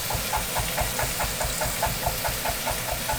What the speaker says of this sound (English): so I just turned the extraction on.